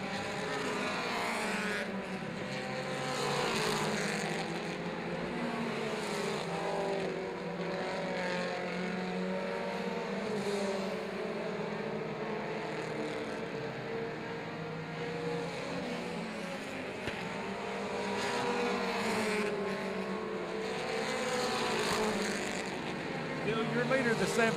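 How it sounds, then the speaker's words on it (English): Mini stock race cars roar around a motor speedway in a steady, layered engine drone that swells and fades as cars pass, with an announcer talking over it throughout. "This time by, two left to go for your leader of John Byers."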